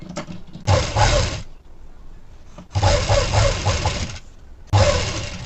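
A sewing machine stitching a plain blouse runs in three bursts of rapid, rumbling mechanical whirring, loud and close, with quiet pauses between the runs.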